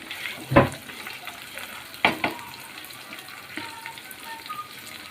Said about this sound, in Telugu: ఇందులో కరివేపాకు వేసుకున్నాం ఇవన్నీ కొంచెం మంచిగా ఫ్రై అయ్యే వరకు వేసుకున్నామండి